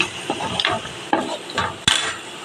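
Leftover rice mix fries in a pan while a spoon stirs and scrapes it, with steady sizzling under a few close scraping knocks against the pan.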